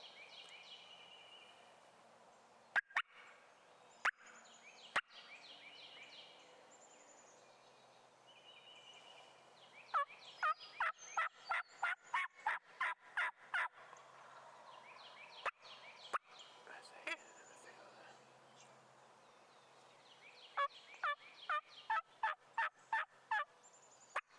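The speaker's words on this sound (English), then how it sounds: "There's gotta be a hen in the field if all them gobblers are still in the darn tree." Several wild turkey gobblers gobble in rapid rattling bursts from trees in hardwoods during a hunt, some loud and near, others fainter, repeating across a quiet outdoor scene with sharp clicks and an occasional low voice.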